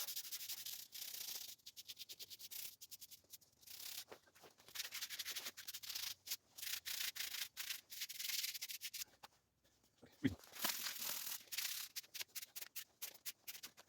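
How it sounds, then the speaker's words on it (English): A brush cutter flail from a Green Technik BC 350 is rubbed by hand with sandpaper in short, repeated scratchy strokes with brief pauses between them. The rasping is close and fairly quiet, and nobody speaks. "I will take some sandpaper now and just tidy it up"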